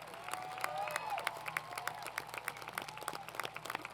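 An audience at the Pasadena City College 2016 commencement claps in a moderate, scattered patter of applause, with a few louder individual claps standing out and a faint murmur underneath.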